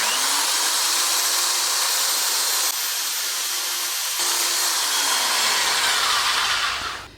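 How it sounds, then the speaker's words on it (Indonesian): An electric drill fitted with a sandpaper attachment sands rust off a machete blade, giving a steady, loud, close high-pitched whirring grind that holds for several seconds and then winds down at the end. "Lalu kemudian kita bisa mengamplasnya dengan cepat tanpa menggunakan tangan secara manual seperti ini"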